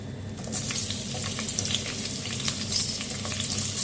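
Chopped onions hiss and sizzle in a hot pan for an Indian-style chicken curry, a steady loud frying crackle that runs unbroken and close throughout.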